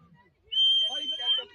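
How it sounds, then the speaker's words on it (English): A single sustained high whistle rings out for under a second, moderately loud, with faint tonal warbles around it. "don't know what the hell all that whistling is doing other than being annoying"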